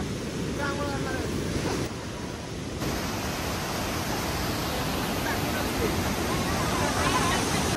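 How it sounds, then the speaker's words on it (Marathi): Veer waterfall near Chiplun roars as a steady, broad wash of falling water, constant and loud throughout, with some wind buffeting the microphone. "वीरचा धबधबा"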